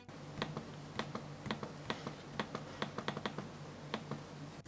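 Sharp clicks from the clickpad of an Asus X550LC 15-inch laptop, roughly a dozen crisp presses at an uneven pace, close and clear over a low steady hum.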